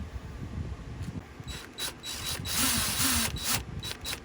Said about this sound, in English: First thing we're going to do is remove the 4 bolts on the top.